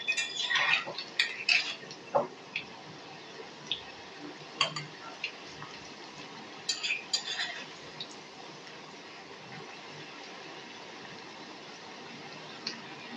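Pakoras deep-frying in oil being turned with a utensil, sharp metallic clinks and scrapes clustered early, then a quieter steady background with occasional taps.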